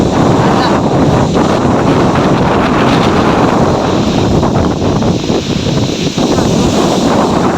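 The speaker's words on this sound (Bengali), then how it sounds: "আর কি হাওয়ার আওয়াজ" Strong storm wind roars steadily and loudly into the microphone in an open field in Bankura district, a dense buffeting rush with no pauses throughout.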